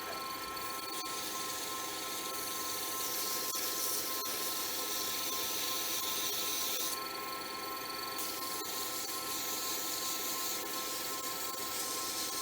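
A handmade pen being sanded with 600 grit sandpaper, most likely spinning on a lathe, giving a continuous close rasping rub under a steady motor whine for the whole stretch, no talking.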